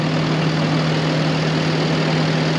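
A tractor engine idles steadily and loudly at close range on a 2021 maize-sowing day, giving a constant low hum with a broad noisy roar above it and no voices.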